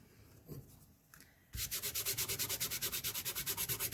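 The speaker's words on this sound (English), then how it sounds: "And just rub." Loose glitter being rubbed onto adhesive through a stencil: after a few quiet scuffs, a fast, even back-and-forth scrubbing sets in, close and fairly loud, repeating about eight times a second with no talking.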